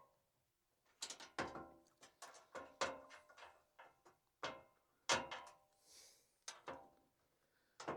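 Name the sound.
bolts being tightened on a Jeep roof rack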